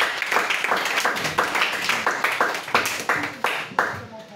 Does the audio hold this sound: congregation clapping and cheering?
yes